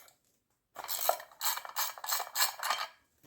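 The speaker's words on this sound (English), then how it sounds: "I'm just going to use a ratcheting wrench." Ratcheting wrench loosening bolts on a Yamaha secondary clutch: after a short silence comes a close run of rapid metallic ratchet clicks in about five quick bursts.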